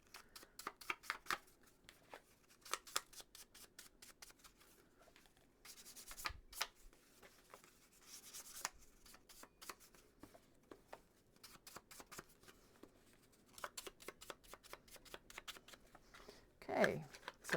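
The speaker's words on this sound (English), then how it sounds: "that is how you do some fussy cutting with your scissors and tools" Quiet, irregular snips and rustles of scissors cutting paper, with short bursts of cutting and pauses, close by and soft.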